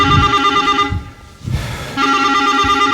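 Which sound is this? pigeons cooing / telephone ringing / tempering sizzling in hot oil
telephone ringing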